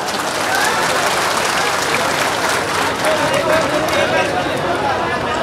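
Applause from villagers at a Chief Minister's public bhent-mulaqat outreach meeting, a broad, steady wash of clapping that runs the whole stretch with voices mixed in beneath it.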